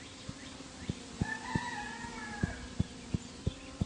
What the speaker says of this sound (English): They have a rooster.